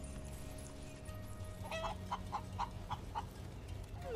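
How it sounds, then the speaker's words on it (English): Chickens cluck in short, evenly spaced calls over a steady low ambient hum in the video game Final Fantasy 7 Rebirth, fairly quiet and close. "Look at all those chickens."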